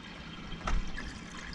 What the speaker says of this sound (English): It's flowing. Flowing good.